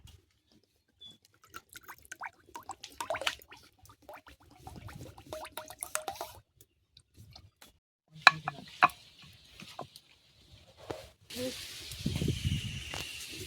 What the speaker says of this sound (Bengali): এইভাবে একে একে লুচিগুলো ভেজে নেব।